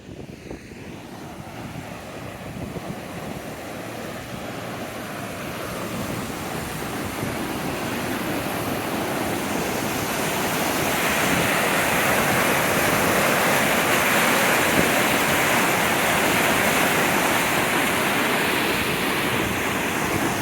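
Rushing floodwater after bad flooding, a steady, broad roar of moving water that swells louder after the first few seconds and holds strong throughout, with some wind buffeting and no talking.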